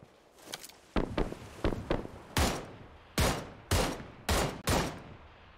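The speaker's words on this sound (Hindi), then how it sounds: "गोलियां चल रही हैं" Sharp gunshots in PUBG PC Lite ring out, a few scattered cracks followed by several louder, evenly spaced blasts, close and punchy with no talk.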